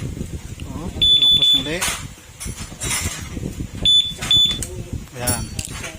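Keyless alarm system on a Honda Click V3 scooter beeping in two short bursts of high electronic tones, close by, under ongoing talk.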